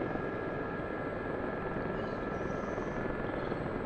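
Gazelle helicopter flying low in the DCS flight simulator game, a continuous, steady rotor and turbine drone with a faint high whine, loud and unbroken, no voices.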